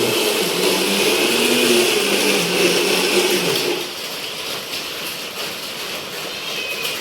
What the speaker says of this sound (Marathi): मम्मी लावते मिक्सर आमचं झालं वाटप